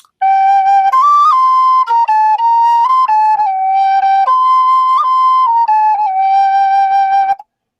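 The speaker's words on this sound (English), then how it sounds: "came up with just an Irish whistle" An Irish whistle plays a slow, haunting melody alone, with clear sustained notes and smooth steps between pitches, close and loud throughout.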